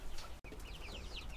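Young chicks peep and cluck in a quick series of short, high chirps, fairly faint and close, with one brief dropout partway through.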